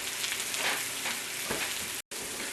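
Pre-sliced mushrooms sautéing in a salted pan, giving a loud, continuous crackling sizzle close up, with an occasional stir and one very brief cut to silence.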